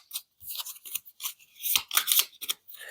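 Quick rustling and riffling of playing cards being shuffled close by, a series of short papery bursts with brief pauses between.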